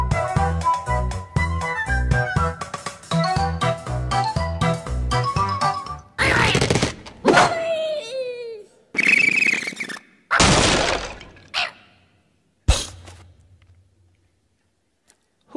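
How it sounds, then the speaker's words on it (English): Angry Birds video game sounds: a bright plinking jingle melody, then bursts of squawks, whooshes, squeaks and crashes as a bird is launched and smashes into pigs, ending with a thud and near silence. "That was the sound of an angry bird taking off, flying in the air, hitting these evil pigs that stole their eggs,"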